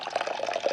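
Cool fresh water pours in a brief, steady splashing stream, close and moderately loud with no talking.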